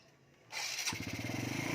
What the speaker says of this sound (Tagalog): Tapos start natin yung ating motor.